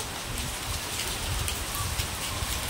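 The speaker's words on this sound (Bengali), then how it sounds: "আর বৃষ্টি পড়ছে" Steady rain falling on a surface outdoors, a dense continuous hiss with scattered drop patter, even in loudness throughout and with no speech.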